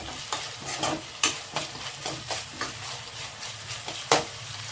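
A crushed ingredient frying in a pan, a steady sizzle punctuated by rhythmic scraping strokes of a spatula, roughly a dozen sharp stirs at close range.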